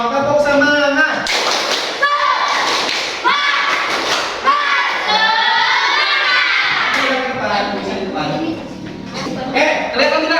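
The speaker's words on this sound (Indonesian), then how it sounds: "Tepuk semangat." A classroom of students does a rhythmic spirit clap, with thumping claps in patterned bursts mixed with excited children's shouts and chanting voices.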